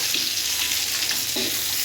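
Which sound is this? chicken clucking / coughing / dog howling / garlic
garlic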